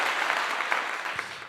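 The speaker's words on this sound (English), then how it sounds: "I'm going to give you a clap" Steady applause sound effect played during a live stream, a dense wash of clapping that fills the short stretch at a constant loud level with no voices.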